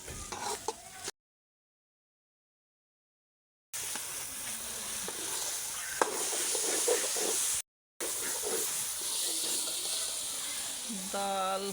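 Urad dal (maash) fries in a browned-onion tempering with salt, chilli and spices in a home kitchen, giving a steady hiss and sizzle with occasional stirring scrapes, broken by two short gaps of silence.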